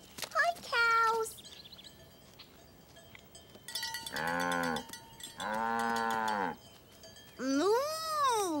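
Cartoon cows moo three times in long, drawn-out calls with pauses between them, after a short high voice at the start and a cowbell-like ring in the background.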